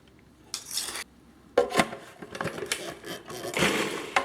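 Tomatoes and onion are worked in a stone molcajete for salsa, giving scraping, grinding and knocking strokes in irregular bursts, close and fairly quiet, with no talking.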